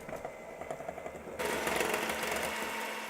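A food processor mixes mascarpone cream for tiramisu. After a low mechanical hum, the motor abruptly climbs to a louder, steady whirring drone close by, and no one speaks.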